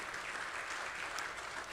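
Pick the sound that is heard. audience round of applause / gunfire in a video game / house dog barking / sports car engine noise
audience round of applause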